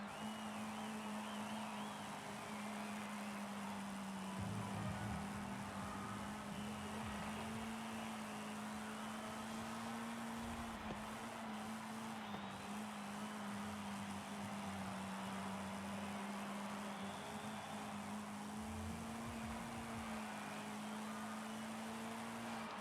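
Engine drone of a light vintage grand prix car, in D-class trim, in Forza Horizon 5, holding a steady tone for a whole lap with small pitch dips at shifts and corners, loud and continuous with no talk.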